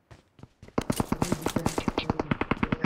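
Rapid automatic gunfire from enemy weapons on Erangle in PUBG, a burst of sharp close shots in a steady fast rhythm after a few scattered opening cracks, loud and with no talk over it.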